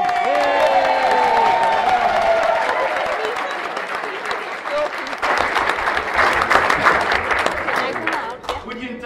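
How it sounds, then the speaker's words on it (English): Wedding guests at a reception clap and cheer for the groom with a few whoops, a loud sustained burst of applause that swells again midway, with voices talking over it. "Give him a big cheer"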